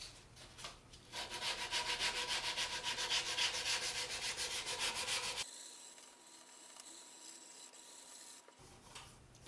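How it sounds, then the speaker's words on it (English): Fine 400 grit sandpaper rubs back and forth over guitar frets in a steady rhythmic scrubbing, close and clear, then stops, leaving a quiet faint hum. "So switching back to my 400 sandpaper, I'm just doing the same thing."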